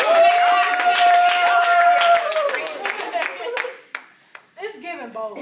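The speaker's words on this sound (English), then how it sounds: "Everybody give them a round of applause." Studio audience at a culture talk show claps together, dense and steady at first, under a sustained musical tone, then thinning to scattered claps while a voice speaks over it.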